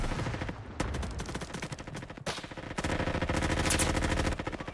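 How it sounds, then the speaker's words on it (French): Gunfire in a Roblox shootout rattles in rapid bursts of overlapping shots and automatic fire, dense and close, with brief gaps between volleys and no talking. "C'est moi où j'ai spawn dans une fusillade."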